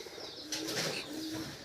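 Pigeons at a village house coo softly in a short, close burst, with a low murmuring call and faint higher chirps over light background noise.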